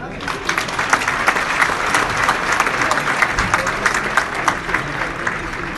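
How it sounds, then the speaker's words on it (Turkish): Loud applause from a large crowd, dense and sustained clapping filling the whole stretch, with some voices mixed in. "Dolayısıyla bir de kendimizi alkışlayalım."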